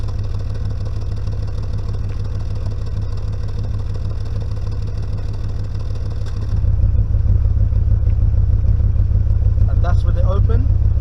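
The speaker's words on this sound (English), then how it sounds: "So this is with the flaps closed." Audi RS4 B7 engine idling with the exhaust flaps closed, a loud, steady close rumble that steps up in level partway through, with brief talk near the end.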